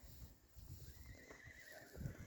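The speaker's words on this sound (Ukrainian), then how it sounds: "Шикарні коні." A faint horse whinny rises and trails off in a quiet outdoor setting at a horse riding stable, with soft rustling and low background noise.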